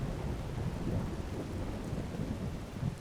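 Constant rainfall with a low, rumbling thunder undertone during a Skyrim thunderstorm, soft and even throughout with no voices.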